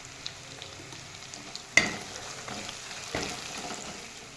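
Spice paste of ginger-garlic with cumin and coriander powder frying in a pan for matar masala paneer, a steady soft sizzle with a couple of sharper stirring scrapes, close and alone.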